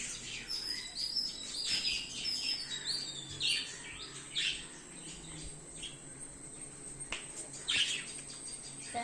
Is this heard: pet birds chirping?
yes